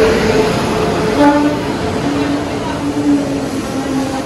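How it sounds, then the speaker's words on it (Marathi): A Konkan Railway passenger train rumbles into a station close by with steady rolling noise and a sustained horn-like tone, while voices talk faintly in the background. "टायमिंग ट्रेनचा 8:04 आहे आणि ट्रेन आली"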